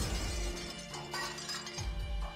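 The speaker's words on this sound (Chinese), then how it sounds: "他身后的屏风都被他撞得粉碎了。" A folding screen smashes to pieces in a loud, dense shattering crash that fills the whole moment, with debris clattering and rattling on after the initial break.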